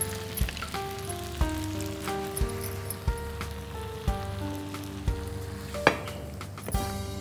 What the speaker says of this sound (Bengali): ব্যাস, এবার আমি চুলোটা বন্ধ করে দেই, দিয়ে এখন আমি ঢেলে ফেলব।